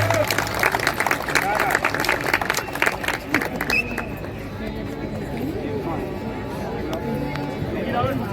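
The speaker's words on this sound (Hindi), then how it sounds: "भरत जी ने ताली बजा दो भाई" Audience clapping at an outdoor Ramlila rehearsal, a loud burst of many hands that fades into crowd chatter and background noise, with someone speaking over it.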